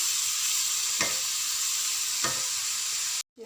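Onion frying in oil with three bay leaves, a dense steady hiss of sizzling throughout, broken by two soft stirring scrapes, before cutting off abruptly at the end.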